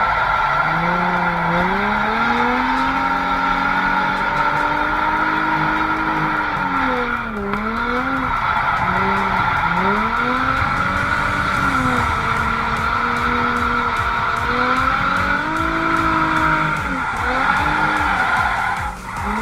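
A car with a new tire setup drifts, engine revving hard in waves while the tires squeal long and loud, close and continuous, with pitch swinging as the throttle rises and falls.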